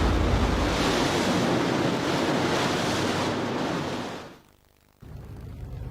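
Water splashes hard at the deck of a ship at sea, a loud, close, continuous rush of spray and wind that drops off suddenly near the end and leaves quieter background noise.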